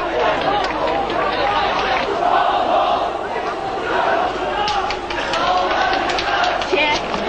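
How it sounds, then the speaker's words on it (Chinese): A crowd of citizens in the street cheers and shouts for students retreating from the square, a dense, loud wash of many voices and excited calls throughout. "由广场撤退的学生沿途受到市民的欢呼"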